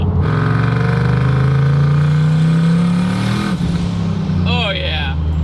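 Camaro fitted with a swapped 4.8 Silverado V8 revs loud and close, a sustained engine roar climbing in pitch, then a brief gear-change dip and further revving with tire or engine whine near the end.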